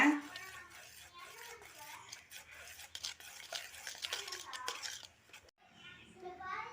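Cake batter for an eggless semolina lemon cake is stirred after oil goes in, giving wet, rhythmic scraping strokes in a bowl while a voice talks over much of it.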